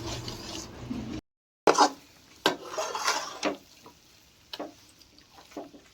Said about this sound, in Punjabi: ਆਟੇ ਨੂੰ ਹਿਲਾ ਲੈਣਾ ਘਿਓ ਦੇ ਵਿੱਚ